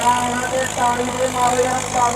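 A simple tractor without a turbo runs with a steady mid-pitched engine drone and faint tonal whine, continuous and fairly loud throughout.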